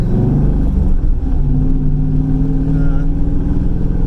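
A turbocharged IROC car cruises with its engine running steadily, a loud, continuous drone with shifting tonal hum, heard from inside the car.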